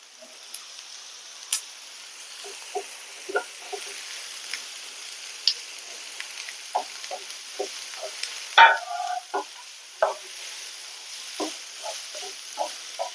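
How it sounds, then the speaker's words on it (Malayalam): Four large onions, chopped into small pieces, sizzle in a hot pan with a soft, steady fry punctuated by frequent sharp clicks and scrapes of stirring, close and fairly quiet, without speech. "പാൻ ചൂടായി വരുമ്പോൾ വലിയുള്ളി 4 വലിയുള്ളിയാണ് എടുത്തിരിക്കുന്നത്"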